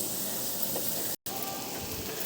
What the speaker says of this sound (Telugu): మసాలా ఇలా కొంచెం వేగనివ్వాలి